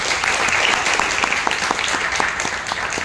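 An audience at a library book talk applauds, a steady dense round of clapping from many hands throughout, fairly loud and continuous.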